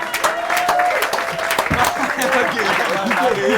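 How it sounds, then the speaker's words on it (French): Theatre audience applauding at a live Creole comedy stage show, a dense wash of clapping that fills the room steadily from start to finish, with voices and whistles mixed into the crowd noise. "Qu'on applaudit très fort, mesdames et messieurs."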